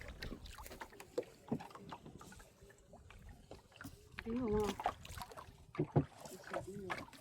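A wooden rowboat moves along a river as a fishing net is laid out, with intermittent paddle splashes, knocks and water sloshing close by while people talk over it.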